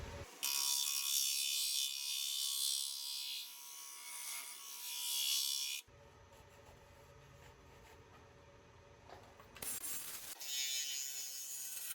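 Power tool hogging out the hollow center of a wood piece, a loud, steady high-pitched grinding whine that runs for about six seconds, drops to a lower rumble, then returns toward the end.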